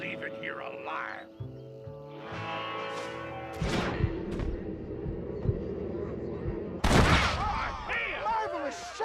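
Gunfire in the Red Dead Redemption Western video game, with several loud shots and bursts around the middle and a big blast near the end, mixed with game music and voices talking.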